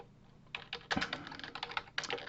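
Code is typed on a computer keyboard in quick bursts of close, clicky keystrokes with short pauses between runs.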